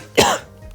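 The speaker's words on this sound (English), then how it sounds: "I'm starting to get a cough" A single short, sharp cough bursts out close to the mic and fades quickly into quiet.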